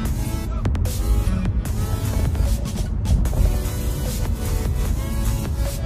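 A car fitted with a loud Cobra sports exhaust drives along a road, its exhaust drone and engine throb steady and close throughout, with a few brief sharper bursts.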